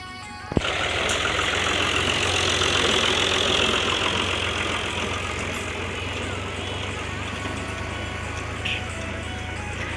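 A tractor engine idles steadily with weights mounted at the back before ploughing a village field, a constant mid-pitched knocking drone after a sharp clunk at the start, with a voice speaking faintly over it.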